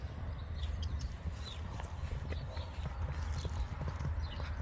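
A small 11.2hh pony gelding cantering downhill, hooves giving a steady close clip-clop rhythm over a low rumble of movement, with faint voices in the background.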